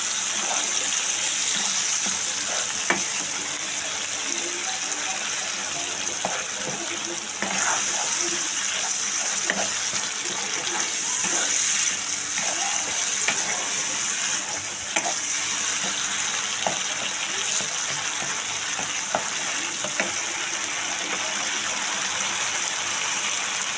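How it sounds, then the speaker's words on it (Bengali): Water runs steadily from a kitchen tap to rinse out a bowl while Kashmiri aloo dum is being cooked. A constant close gushing stream carries on throughout, with a few faint clinks underneath. "তবে আমি বাটি ধুয়ে জল দিয়ে দেবো"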